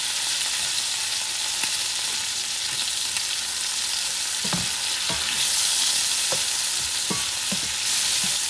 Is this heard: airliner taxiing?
no